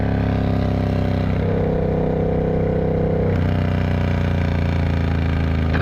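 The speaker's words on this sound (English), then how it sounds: "I'm going to just open it up a little bit and then we'll see whether the exhaust is picked up from the Cardo microphone" A Triumph Bobber motorcycle's engine and exhaust drone steadily while riding, with a loud, continuous low rumble that rises in pitch as the throttle opens and shifts tone partway through, heard alone without talk.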